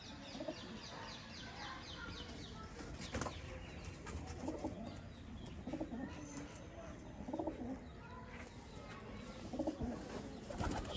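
Sialkoti breeder pigeons coo softly and repeatedly at close range over a faint background hum, with quiet talk in the background.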